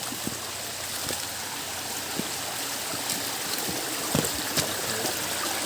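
Mountain spring water flows steadily with a soft, continuous trickle and gentle gurgle outdoors, with a few faint clicks and knocks over the constant wash and no talk.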